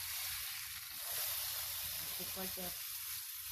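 Steak sears in a pan with butter off the stove as it is flipped back over, giving a steady close broadband sizzle and hiss throughout with a brief scraping turn midway, while someone talks over it.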